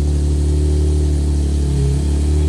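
A Nissan 370Z engine runs steadily with a deep, loud low drone as the clutch is let out, close up with no voices.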